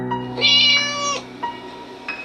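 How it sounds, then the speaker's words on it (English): A cat meows close by: a loud, drawn-out cry followed by two shorter, softer meows, with no talk over it. "Oh, this cat."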